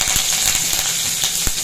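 Mustard seeds, curry leaves and asafoetida tempering in hot oil in a home kitchen, a steady loud sizzle with sharp crackles and pops scattered throughout.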